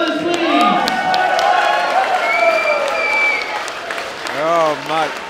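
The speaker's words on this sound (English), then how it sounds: "huge round of applause for our main event fighters, please" At a fight event, a large arena audience applauds and cheers the main event fighters with sustained dense clapping, scattered whoops and shouting voices, building louder toward the end.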